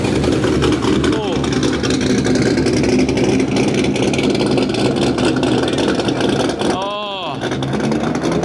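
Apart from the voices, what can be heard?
car with LS V8 engine revving at a meet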